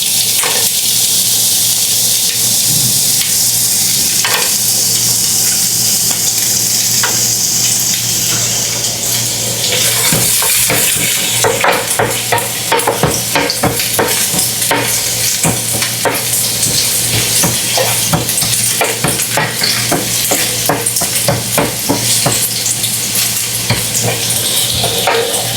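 Carrots stir-frying in hot oil in a pan: a loud, continuous sizzle with a low steady hum beneath. About halfway through, sharper stirring and scraping noises join in.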